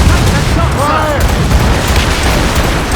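Ship cannons boom in a loud, dense volley during a naval battle in Assassin's Creed Rogue, overlapping blasts and rumble filling the whole moment with a shouted voice briefly cutting through.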